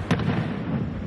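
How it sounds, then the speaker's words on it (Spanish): A castillo fireworks display in Cullera, Valencia, bursts with one sharp crack followed by a dense, rumbling roar of explosions, loud and continuous, with no talking. "Un espectacular castillo de fuegos artificiales"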